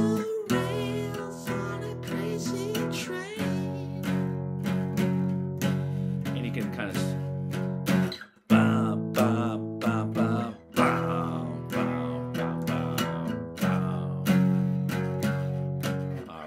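Electric guitar playing the power chord riff, rhythmic picked chords shifting in pitch across sections, close and clear with brief pauses between phrases.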